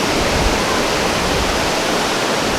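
Rough sea waves at a Tobago beach make a continuous loud roar of surf and rushing water, close by and unbroken throughout.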